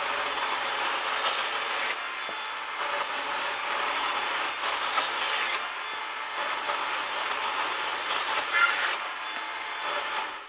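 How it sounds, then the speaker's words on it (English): A DeWalt DCMCS575 54V/60V cordless chainsaw cuts through secured timber, a continuous bright hissing buzz that holds steady for the whole stretch with slight surges, close and loud. "let's go for it with the DeWalt DCMCS575."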